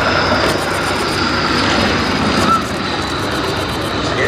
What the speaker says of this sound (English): over the threshold at the western end comes the BE-2E from the World War I Aviation Heritage Trust